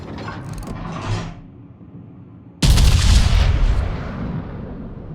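Naval guns on a warship in World of Warships boom in a heavy salvo: a softer rumbling report first, then a sudden loud, close blast that rolls and fades over several seconds, with no talk.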